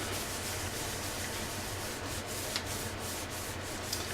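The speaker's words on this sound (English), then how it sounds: "I'm going to place this on the stamp and then rub with a scratch sheet." A scratch sheet rubs paper over a rubber stamp in soft, steady, close scraping strokes, with a few faint taps near the end.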